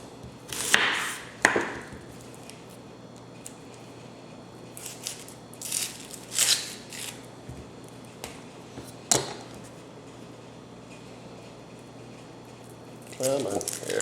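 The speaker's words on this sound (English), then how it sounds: "one of the first things we need to do is slice up our onions" A knife slices an onion in half for Salisbury steak, giving a few sharp, close cutting chops spaced apart, with a cluster of crisp strikes near the end over quiet kitchen background.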